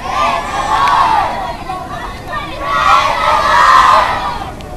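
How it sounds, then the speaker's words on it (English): Crowd of schoolchildren in Jamaica screaming and shouting together in loud, sustained waves of massed young voices, with two big surges rising and fading. "They're screaming, "Praise the Lord.""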